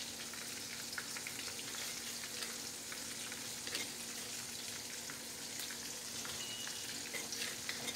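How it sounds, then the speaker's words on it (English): Shrimp coated in Creole seasoning fry in a pan, a soft, steady hiss of sizzling oil with scattered light crackles throughout, quiet and close, with no voices. "I'm gonna cook it for about 5 minutes until it's golden brown"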